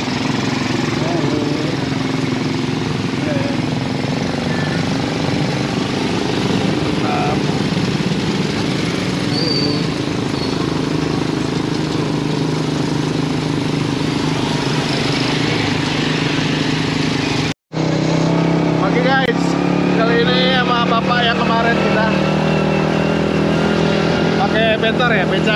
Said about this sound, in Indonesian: beca motor dengan kecepatan 40 km per jam